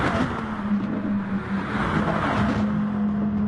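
Racing-game engines of a Lamborghini Huracan Group 3 with its 5.2-litre V10 and a BMW M6, a loud steady drone with sustained high revs and no pauses, heard up close without talk.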